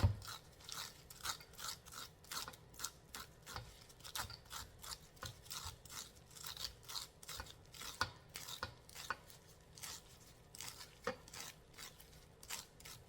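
A knife scraping kernels off an ear of corn for Southern fried corn makes steady, rapid, rhythmic rasping strokes. They are close and fairly quiet and go on without pause, with no voices.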